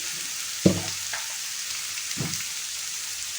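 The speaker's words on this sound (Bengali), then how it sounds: "রসুনটা একটুখানি হালকা ফ্রাই হয়ে যাওয়ার পর" Garlic fries lightly in a pan with an even, close sizzling hiss, broken by a couple of sharp utensil knocks against the pan, and no voices.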